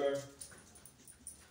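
Dogs shut inside an empty former pharmacy building give a short whimpering yip at the start, then fainter shuffling sounds with quiet room noise, all at low level.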